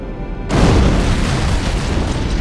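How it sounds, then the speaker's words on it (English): A heavy boom from an antimatter charge going off aboard a starship in Halo: Combat Evolved, a sudden loud blast that cuts in and settles into a long, dense rumble. "It must have been one of their boarding parties. I'd guess an antimatter charge."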